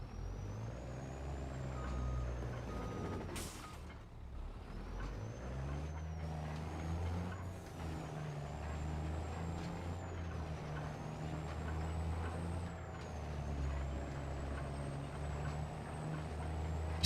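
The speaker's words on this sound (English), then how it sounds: "Used to run jake brakes everywhere," A heavy truck in the game Farming Simulator 25 rumbles along with a deep, steady engine drone and a sharp burst of air-brake hiss early on, then continues with a pulsing low engine note throughout.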